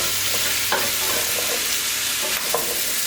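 String beans with salted pigtails being stirred in a pot over medium heat, a dense continuous sizzle with a couple of brief scraping strokes, close and loud, no talking.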